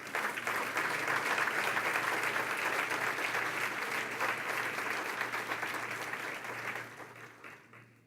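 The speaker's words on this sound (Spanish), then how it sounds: "¿Le puedes dar un aplauso al Señor," Church congregation clapping in a sustained round of applause, dense and steady, fading out toward the end.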